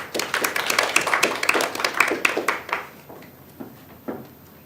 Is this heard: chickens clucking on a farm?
no